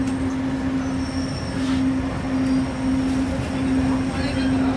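Disneyland monorail train at the Tomorrowland station, a steady loud rumble of rolling wheels with a sustained high squeal running throughout, close by, with faint crowd murmur underneath.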